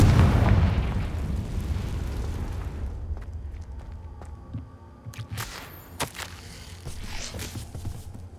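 A loud Confringo fire-blast spell explodes in Hogwarts Legacy, a single booming burst that rolls off over a few seconds into quieter game ambience with scattered small clicks and crackles.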